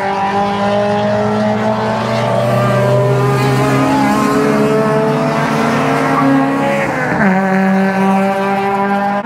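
Japanese cars racing on a circuit at a large car festival: loud, unbroken engine drone with layered tones, the pitch dropping sharply near the end as a car shifts or passes.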